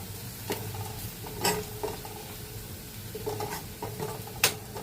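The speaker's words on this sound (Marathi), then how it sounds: "मला असं हलवून घेऊया छान पैकी" A spoon stirs turmeric and homemade Agri masala in a hot cooking pan, with scattered scraping clicks and taps over a soft sizzle, close and moderately quiet.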